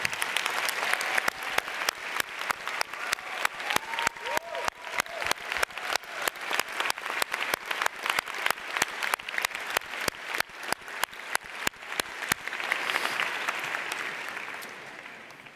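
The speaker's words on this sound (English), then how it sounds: "I'd like parents and grandparents to stand, and I'd like the students to applaud them" Students at a 2015 high school commencement applaud standing parents and grandparents, a long, sustained round of hall applause with a dense steady clatter that swells and then tapers off.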